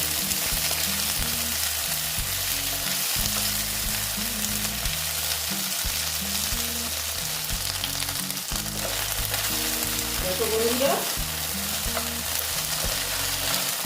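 Okra frying slowly in a pan over a low flame gives a steady, even sizzle throughout, with a low rhythmic hum underneath and a faint clink near the end.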